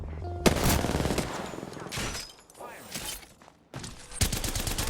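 Rapid bursts of gunfire from the video game Apex Legends crackle in loud volleys with short gaps between them, while a player speaks briefly over the shooting.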